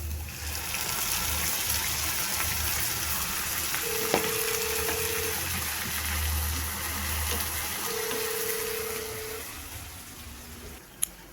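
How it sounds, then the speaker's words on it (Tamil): Fish curry masala paste sizzling with onions in a hot pan, a steady loud frying hiss with faint stirring and a couple of brief tonal beeps over it. "இதில் வெங்காயத்தோடு சேர்த்து நல்லா வதக்கலாம்"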